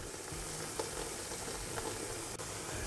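Eggs frying in a pan over moderate heat give a steady, close hiss and crackle that runs evenly through the whole stretch, with a few faint clicks from stirring and no voices.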